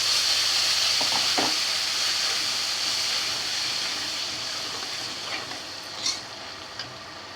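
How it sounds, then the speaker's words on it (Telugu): Tamarind pulp hits hot oil for temple-style tamarind rice, giving a steady, bright sizzle that fills the whole stretch and fades slightly toward the end, with a few soft clinks of stirring. "ఇప్పుడు చింతపండు గుజ్జు తీసుకొని వేసేస్తున్నాను"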